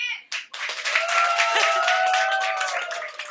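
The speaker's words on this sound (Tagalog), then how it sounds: "ang mga gustong pumalakpak naman po para kay Nadine" Studio audience on a Filipino entertainment chat show clapping for a guest, a dense patter of hands that starts after a brief pause and holds steady, with cheering voices and a sustained whoop riding over it.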